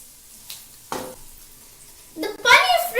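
Paneer frying in a pan for a cheese roll, a faint sizzle building into a louder burst of frying and stirring near the end.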